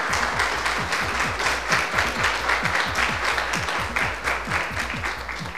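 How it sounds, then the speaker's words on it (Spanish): An audience at a Puerto Rico fashion show event applauds designer David Antonio, a dense, steady round of clapping with a few sharper claps near the front, lasting throughout. "fuerte el aplauso para David Antonio"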